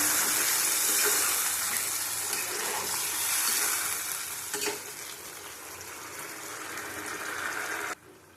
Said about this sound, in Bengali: মাছের ঝোল ফুটে যাচ্ছে